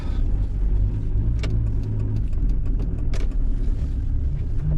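A car sets off on a camping trip, its engine rumbling low and steady from inside the cabin, with a few faint clicks and knocks over the drone.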